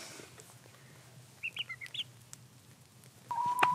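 Gamefowl chickens outdoors give a few soft clucks spaced out near the middle, followed by a brief louder call at the end, against a quiet open-air background.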